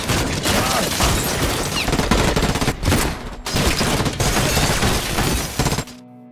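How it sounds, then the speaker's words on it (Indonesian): Dense gunfire rips through a film scene of an attack on a police station, sustained volleys and bursts with shattering impacts, loud and close, with a brief lull before it cuts off. "langsung menyerang kantor polisi dengan tembakan"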